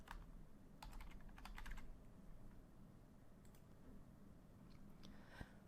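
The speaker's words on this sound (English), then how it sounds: "As I begin typing, a variety of options will appear from the UW directory." Typing on a computer keyboard while filling in an online form, heard as quiet bursts of rapid key clicks followed by a few scattered taps. The room is otherwise quiet.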